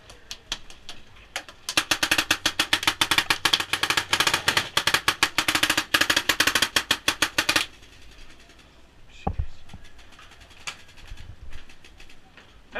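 Rapid automatic gunfire in a video game, a dense run of sharp repeated shots for several seconds that stops abruptly, followed by a few scattered single shots and a low thump.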